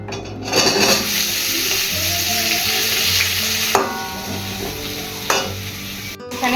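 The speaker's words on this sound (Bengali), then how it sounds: "এখানে আমি মাংসের আলুটা ভাজতে দিয়েছি" Potato pieces for a meat curry fry in a pan with a loud, steady sizzle. A spoon stirs them with a couple of sharp scrapes against the metal, close up and without talk.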